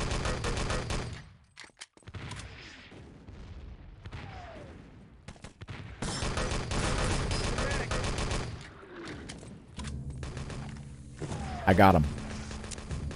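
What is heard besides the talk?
friendly artillery strike in the video game Wolfenstein: Enemy Territory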